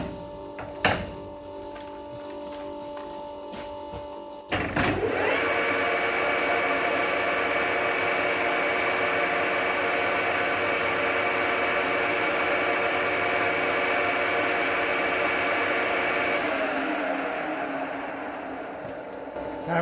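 Deep hole boring with a through-coolant boring bar spinning at 500 RPM: a quieter start, then from about four seconds a loud, steady rushing hiss over a sustained machine whine that holds to the end.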